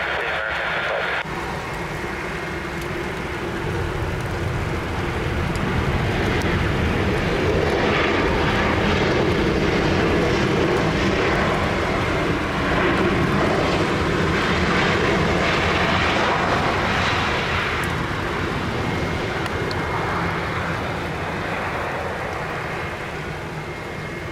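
Jet airliner engines roaring steadily at Lisbon Airport, a broad sustained rumble that swells and holds for the whole stretch, heard from fairly close with no voices.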